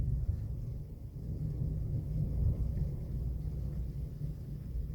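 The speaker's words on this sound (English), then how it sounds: "That was some loud thunder." Loud thunder rolls through as a deep, sustained low rumble that swells and lingers for several seconds during rain, without any talking.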